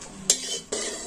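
Dried red chillies hit a hot wok while pickle spices are readied for an elephant apple (chalta) achar, giving two sharp crackling sizzles with a scrape of metal between them, close and fairly loud.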